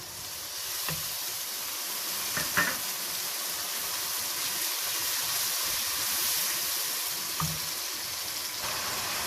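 Ground tomato puree sizzling in hot oil with garlic-ginger paste, a steady loud hiss and crackle throughout, broken by a few soft clinks and stirring scrapes.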